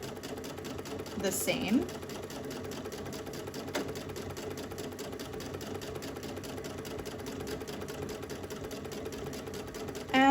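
A Brother Luminaire sewing machine stitching free-motion quilting at a steady, even speed, a continuous rapid needle rattle running throughout while someone talks over it.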